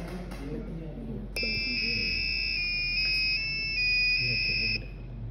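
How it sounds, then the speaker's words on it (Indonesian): Arduino buzzer stepping through do re mi scale notes, a string of clear electronic tones held briefly one after another over steady background hum. "maka lampu akan nyala dan sesuai dengan urutan do re mi fa sol la si do, buzzer juga akan menyala"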